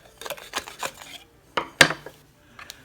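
A hand tool scrapes and hollows out the centers of zucchini and yellow squash, producing short close rasping scrapes and scoops with a sharper knock partway, separated by brief quiet gaps.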